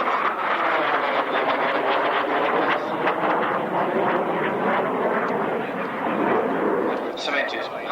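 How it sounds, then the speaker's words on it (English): A MiG-21 delta-wing jet flies at an airshow, its roaring engine a broad sustained rumble that stays loud and steady throughout, with a commentator speaking over it. "In from the left now, rolling the aircraft inverted."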